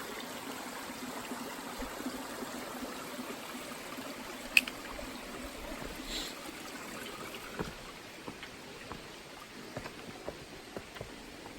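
The Hell Hollow Brook on the Appalachian Trail in Vermont flows with a soft, steady trickling babble, faint and continuous, with occasional small clicks and no voices.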